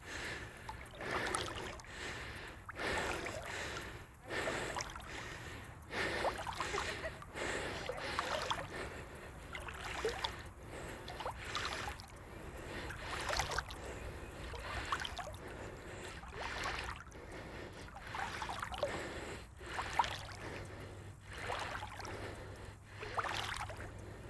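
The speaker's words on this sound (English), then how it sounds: "my shoulders, as my arms go around, make little waves all the time" Swimmer's arm strokes in open water, rhythmic repeated splashes and sloshes roughly every second, close and fairly soft, with heavy breathing between strokes.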